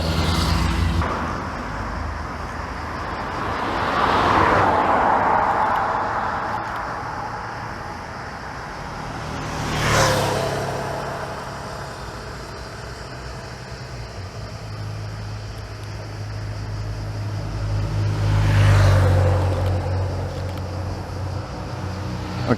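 Cars, including an Audi, drive past on a road, each pass swelling and fading in slow whooshes, with three clear passes over a steady background of traffic and wind.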